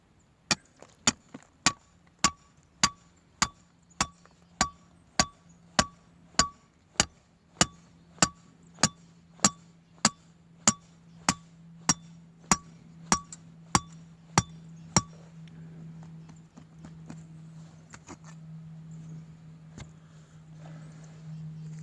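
Rhythmic metallic clanks, about twenty evenly spaced sharp strikes from a homemade driver driving a metal trapping stake into the ground, then stopping into quiet background noise.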